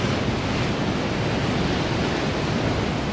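Canal water pours strongly through the gates, a steady, loud broadband roar of rushing water that holds evenly throughout with no voices.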